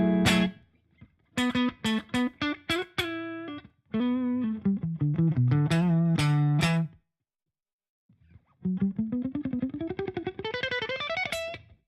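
A clean electric guitar tone through a Polychrome DSP Nunchuck plays short plucked notes and chords, then a sustained run of rising notes after a brief pause, bright and close with no talking.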